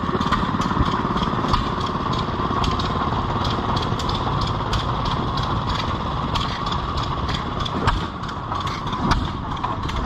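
Several old gas engines, including a Massey Harris, run together at a county fair display in a steady, loud mechanical drone with rhythmic chugging and rattling, continuous throughout and close by.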